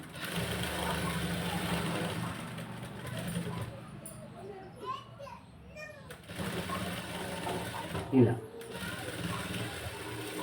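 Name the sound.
sewing machine stitching thread piping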